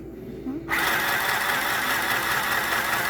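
A sewing machine motor whirs into a steady, continuous hum after a brief quiet start, stitching fabric for a tote bag, close and fairly loud with no one talking.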